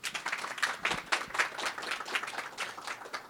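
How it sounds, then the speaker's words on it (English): An audience applauds after a book talk on resegregation in Northern California politics, a short burst of moderately distant clapping that stays steady for a few seconds. "round of applause, people."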